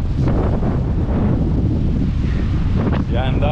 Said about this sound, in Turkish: Yani daha 2-3 gün daha bu şekilde sağlam bir rüzgar var.